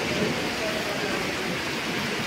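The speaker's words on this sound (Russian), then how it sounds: "Дождь шумит по крыше." Rain drums on the roof canopy of an outdoor market as a soft, constant patter and hiss, fairly quiet and steady throughout.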